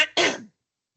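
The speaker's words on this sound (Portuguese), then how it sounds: "desculpem, é um bocadinho tosse" A single short throat clearing followed by a brief cough, close and fairly quiet during an online webinar, then silence.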